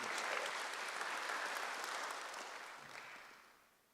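A church congregation at a Sunday worship service breaks into dense, steady applause that holds strong and then tapers off toward the end.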